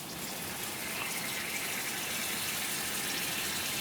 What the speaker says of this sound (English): I'm just gonna pour this sauce on there.